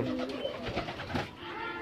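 Pigeons cooing inside a loft, soft low coos repeating close by over a quiet, hushed background.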